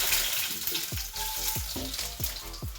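Urad dal fries in hot coconut oil with a close, steady sizzle, broken by soft scraping and stirring sounds that repeat about every half second.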